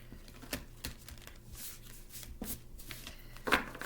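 Heart-shaped tarot cards riffle and slap softly in a quiet room, a few sharp card snaps and papery rustles scattered over four seconds, close and fairly faint.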